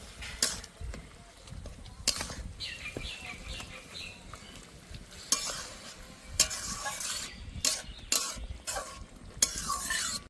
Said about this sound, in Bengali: খুন্তি দিয়ে ভেঙে দিচ্ছি আমি, আপনারা চাইলে অন্য কিছু দিয়ে ভাঙতে পারেন